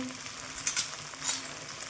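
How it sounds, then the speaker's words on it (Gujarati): Okra is tempered in hot oil and sizzles loudly and steadily, with a couple of brief surges as it is stirred. It is close by and there are no voices. "હું શાક વઘારું છું"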